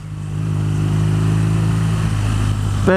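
A 2015 BMW R nine T motorcycle engine revs loud and close as the bike accelerates, holding a steady pitched drone before a gear shift near the end brings a quick sweep in pitch.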